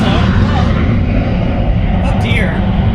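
A steady, loud engine roar of an aircraft passing in a video game, with a broad rumbling drone throughout and a brief higher whine near the end.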